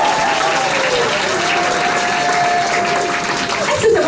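A congregation at a French-language church service applauds and cheers in one sustained burst of clapping and voices, loud and close, with a drawn-out vocal tone carried over the crowd.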